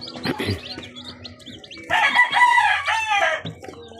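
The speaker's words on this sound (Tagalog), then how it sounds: "Daming gaganda ng mga sisiyo ngayon, no." Newly hatched chicks of a sweater and grey batch, one with limber neck, peep in high, busy chirps, with a louder burst near the middle over low background noise and handling.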